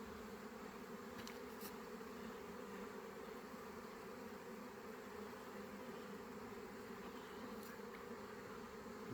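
Bees hum in a continuous close buzz, a steady drone of many insects with no talking.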